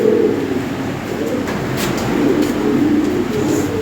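Lahori Sirazi pigeons at a sale coo in a low, rolling murmur close by, over a steady rumbling background that runs unbroken throughout.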